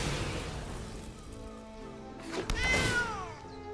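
A cat meows in a short burst near the end over background game music and sounds, a summoned cat card, Cauldron Familiar, returning in a Magic: The Gathering Theros Beyond Death match.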